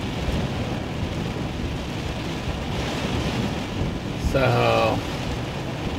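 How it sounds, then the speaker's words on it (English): A sudden thunderstorm brings steady heavy rain drumming around a bug-out yurt with a partly fixed roof, and wind noise buffets the microphone throughout. A voice speaks briefly near the end. "the storm was kind of sudden"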